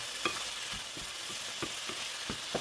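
Rice with pork and mixed vegetables stir-fried in a pan: a steady sizzle broken by a quick, uneven run of scraping and tossing strokes, close and alone.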